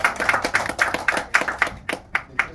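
A small audience claps for the film team of Annapurna at a post-screening talk, a sparse, uneven burst of separate hand claps that thins out toward the end, with no talking over it.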